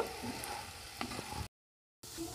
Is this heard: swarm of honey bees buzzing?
no